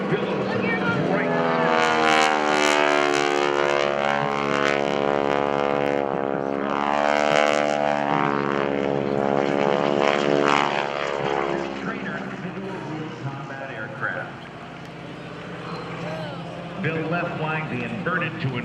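A modified propeller airplane performs at the 2012 Blue Angels Homecoming Airshow, its loud droning engine sweeping in pitch as it passes close overhead, with a voice speaking over the roar.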